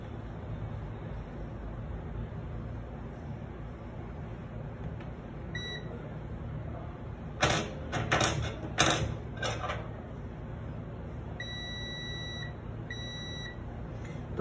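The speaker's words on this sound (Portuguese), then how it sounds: "A gente vai pegar o multímetro, escala de bip." Multimeter set to continuity mode beeping as its probes test the power button of a Moto G8 Plus phone; a few short tonal beeps around the middle and a later pair of sustained beeps, heard over faint background noise and handling clicks.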